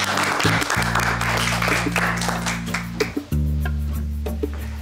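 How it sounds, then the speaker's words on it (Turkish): Studio audience applause, a dense burst of clapping close by, layered over a steady low hum and background tones, fading a little toward the end. "Alkış!"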